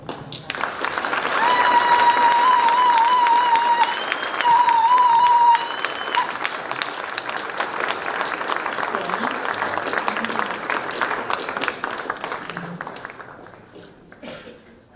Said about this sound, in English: give a resounding round of applause as we welcome Her Excellency